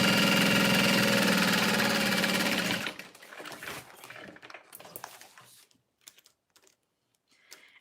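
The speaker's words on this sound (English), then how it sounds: "So I'm gonna sew this on at about 1/4 of an inch from the top edge of that pocket." A sewing machine stitches a waterproof canvas pocket a quarter inch from its top edge, its motor whirring steadily for under three seconds before stopping, followed by soft handling clicks and rustles.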